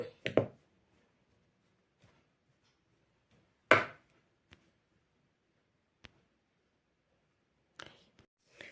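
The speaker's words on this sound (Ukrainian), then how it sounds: "І зараз вбиваю яйця." Eggs are cracked into a bowl while mixing a batter for cheese balls: a few sharp, isolated knocks and cracks separated by long quiet gaps, close and fairly soft, with faint taps between them.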